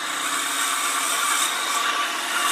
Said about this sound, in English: quarter inch drill, so I can just hold this by hand here